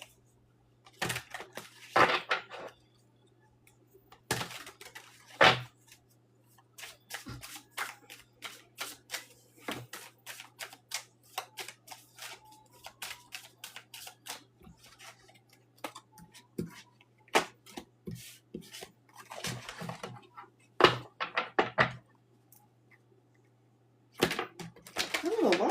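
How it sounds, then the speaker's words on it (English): A deck of tarot cards is shuffled by hand in repeated bursts of riffling and sliding, close and fairly quiet, with short pauses between bursts over a low steady hum. "I got one more deck to shuffle."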